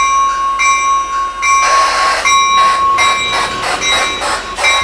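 Bell on a model railroad locomotive running on an analog layout with a Flyer transformer, with steady repeated electronic dinging tones above a faint running hum, close and fairly loud, with no talk.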